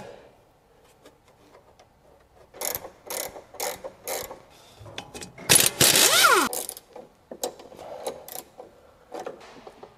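Clicking, grinding mechanical knocks from a worn steering joint on a Porsche 911 (997), in irregular bursts with a louder creaking stretch in the middle, close up and without talk.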